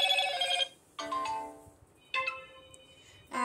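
Notification tones previewing one after another on a Moto g52 phone: three short bright chime bursts, each ringing out and fading, separated by quiet gaps, fairly clear and close with no talking.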